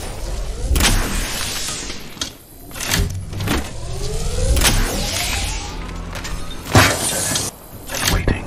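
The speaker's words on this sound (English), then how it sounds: "Charging shields." Shields charging in Apex Legends as a rising whirring, mechanical tone repeats in sweeping surges, broken by loud broadband bursts and thumps across the span.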